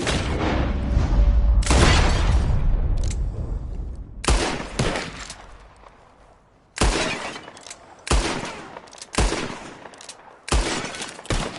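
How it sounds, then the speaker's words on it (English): Gunshots ring out in a PS4 video game duel where shooters fire at bottles: loud, repeated cracks come in rapid bursts separated by short pauses, and the sharp reports echo and decay between volleys. "Just draw your gun and aim when you're ready. All right? Shoot!"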